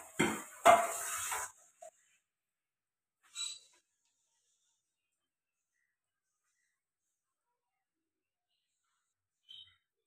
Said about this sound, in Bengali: এবারে আমি এটা এই বোলেতে ঢেলে দেবো।